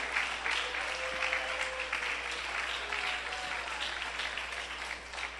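A church congregation applauds in praise during a service, with sustained moderate clapping over a faint low hum and a few brief tonal sounds.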